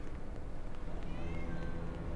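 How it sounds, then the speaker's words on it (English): A cat in Hitman: Codename 47 lets out a faint, drawn-out meow under a dense, noisy game background. "There is a cat. It was much more pronounced that time."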